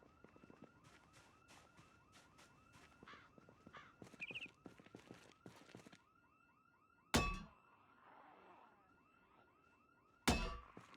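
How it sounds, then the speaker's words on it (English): A faint, distant alarm holds a steady wailing tone with rhythmic repeating pulses for several seconds, then fades as two sharp, loud thumps break in nearby. "you can hear that alarm in the distance"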